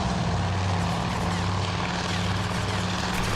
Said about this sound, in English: Little helicopter.